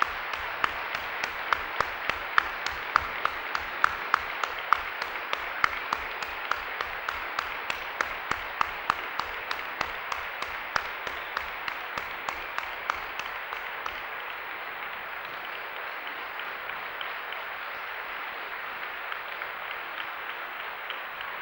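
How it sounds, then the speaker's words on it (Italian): Audience applause fills a hall, with steady rhythmic clapping from a large crowd, strong and sustained at first, then continuing a bit thinner toward the end. "vorrei che facessimo tutti insieme un applauso per gli avvenimenti di questi giorni"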